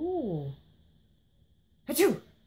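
A person imitates a sneeze with a sharp, breathy burst, after a short drawn-out vocal sound and a pause of near silence.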